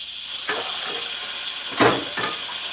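Steady, fairly loud steam hiss as pressure is released during cooking at home, with a few brief kitchen clatters over it and no voices.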